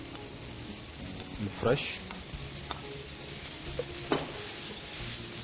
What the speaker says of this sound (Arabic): بعد كذا بضيف الطماطم